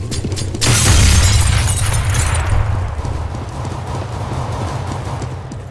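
A grenade explodes in a first-person shooter game with a sharp, loud burst that decays into a long rumbling rattle, followed by scattered clattering debris.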